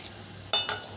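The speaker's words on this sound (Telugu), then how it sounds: "కొబ్బరిని మధ్య మధ్యలో కలుపుకుంటూ ఇలా వేయించుకోండి" Grated coconut dry-roasting in a pan is stirred, giving two quick, close scraping strokes of a utensil against the pan after a near-silent start.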